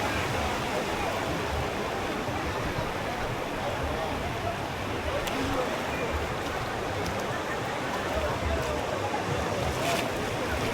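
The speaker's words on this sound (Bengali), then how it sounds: "বিশাল ঢেউ।" Huge sea waves crash and roll at Tajpur beach, a loud, steady wash of surf that fills the scene without pause, with faint wind over it.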